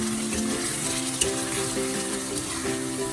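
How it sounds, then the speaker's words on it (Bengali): Egg curry being stirred in a frying pan, with a steady sizzle and bubbling simmer, a faint utensil clink, and a tonal hum running beneath the sound. "একটু নাড়া দিয়ে দেই।"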